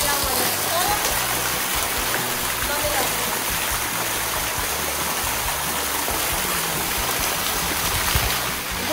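Water flowing steadily at a mountain pool at Charca de las Palomas near Tejeda, Gran Canaria, a broad constant rush close by, with a person speaking briefly over it.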